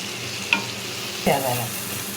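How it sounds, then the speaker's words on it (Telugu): Onions frying in oil in a pan while a spoon stirs, giving a soft sizzle with two brief clinks of the utensil. "ఆ ఉల్లిపాయ కారము పచ్చివాసన పోయినాక ఈ నూనెలో మగ్గించుకుందాం"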